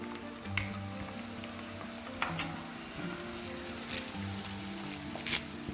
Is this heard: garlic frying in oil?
yes